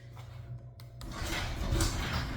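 A big door slides open in a maintenance building, starting as a faint scrape and then swelling into a louder, continuous rumbling slide close by.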